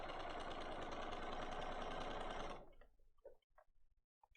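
Sewing machine stitching pieces of placemat fabric, a fast steady mechanical whir for about two and a half seconds that stops abruptly, followed by a few faint clicks and handling sounds.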